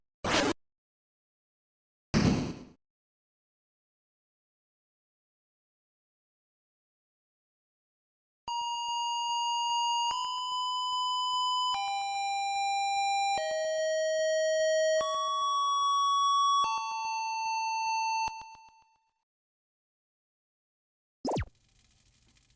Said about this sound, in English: a loud ringing repeats in your ears